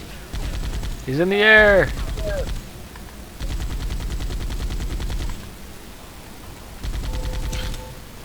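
Rapid automatic bursts of assault rifle and pistol fire from the shooter Halo: Custom Edition rattle in three sustained strings, loud and close, with a voice speaking briefly over the first burst.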